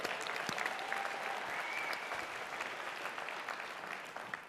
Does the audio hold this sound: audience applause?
yes